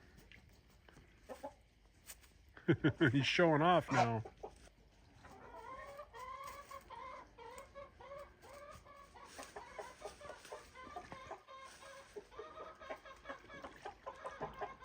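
A rooster on a small farm makes low, repeated clucking calls to hens, with a brief louder burst of squawking early on and someone speaking briefly.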